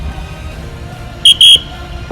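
Two short sharp whistle blasts, a brief chirp followed by a slightly longer tone, sound as a drill signal during a cadet training exercise demonstration, loud against a quiet background.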